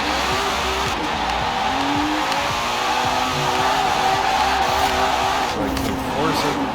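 A 2012 Aston Martin Vanquish AWD drift build driven in Forza Horizon 4, its engine droning and revving steadily with tire noise throughout, loud and close, with a voice talking over it.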